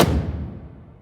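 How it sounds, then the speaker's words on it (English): Cinematic stomp sample from a bass house production, a single heavy booming impact that decays over about a second, alone. "Cinematic stomp."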